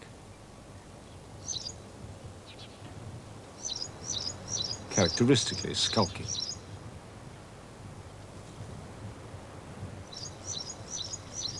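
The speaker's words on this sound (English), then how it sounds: "The wryneck." Wryneck calls sound as short, high chirping bursts repeated at intervals, fairly distant over a soft outdoor hiss, with someone narrating briefly through the middle.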